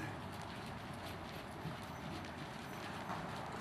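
A horse cantering during a riding clinic warmup, with steady muffled hoofbeats in a continuous rhythm against broad, noisy background hiss, no voices.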